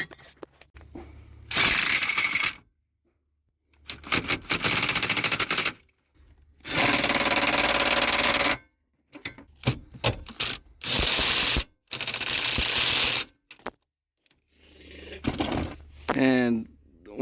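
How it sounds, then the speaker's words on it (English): Ratchet wrench tightening a bolt on a bracket in a 6.0 engine-swapped Chevrolet Silverado, heard as several loud bursts of rapid clicking separated by pauses, with a few short handling noises between strokes. "I had to pull this bracket back out again just to do up this bolt here."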